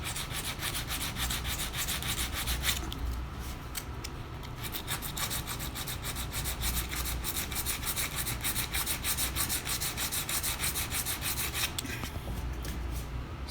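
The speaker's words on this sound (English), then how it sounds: "So I'm just going to sand this down here." A small piece of sandpaper is rubbed by hand over cured epoxy patched with 410 fairing filler, producing a continuous close scratchy rasping in steady back-and-forth strokes, with no talking.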